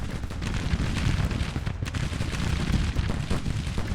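Dense, continuous musket volleys and artillery rumble from a Grand Tactician: The Civil War battle, a steady roar of massed gunfire with no voices over it.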